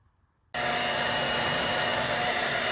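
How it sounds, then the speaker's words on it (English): After a moment of near silence, a hair dryer switches on and runs loudly on high, heating a Mauser M48 rifle stock, with a constant, close whooshing roar. "Here I'm using a borrowed hairdryer set on high, and I'm heating up the stock"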